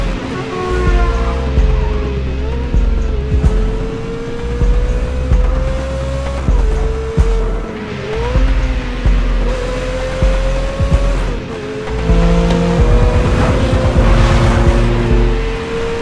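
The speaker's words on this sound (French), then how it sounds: "Il y a des scènes de course-poursuite vraiment de fou." Car chase from the film Miami Vice: engines roar continuously with rising and shifting whines as vehicles accelerate, a brief tire squeal-like burst near the end, all dense and loud with no talk.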